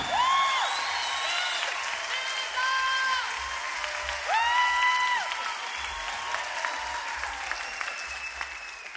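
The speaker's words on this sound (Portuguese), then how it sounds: "salve de palmas." Concert audience applauding at a live music show in Brazil, a steady wash of clapping that holds through the whole stretch while sustained sung or instrumental tones ring over it.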